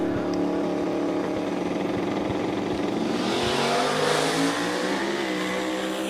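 A Camaro roars down a drag strip in a sustained, loud engine howl that climbs in pitch as it accelerates through the gears at the track.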